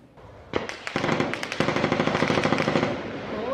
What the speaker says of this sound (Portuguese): Ao som de tiros